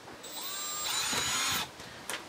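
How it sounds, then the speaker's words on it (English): Power drill boring screw holes for storm door hinges outdoors, a short high whine that rises in pitch, then grinds under load before cutting off, with a small knock after. "you have to drill the other seven holes for the other four hinges"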